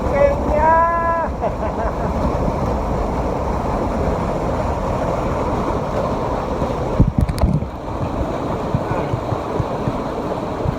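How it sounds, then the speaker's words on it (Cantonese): A waterfall on Lin Fa Shek stream pours in a broad, steady roar, heard outdoors on a hike in Hong Kong. A brief voice rises at the start, and there is a short burst of handling noise midway. "好靚嘅瀑布啊"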